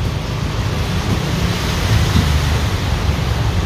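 At Jomtien Beach in Pattaya, waves and wind make a steady, full roar of surf with low rumbling wash. It sounds close and loud, with no voices.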